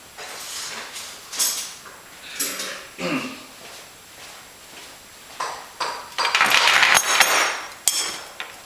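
Clecos clicked into holes in an RV-7 aircraft wing skin, a series of sharp metallic snaps and taps spaced a second or so apart, close by, with faint handling noise between them.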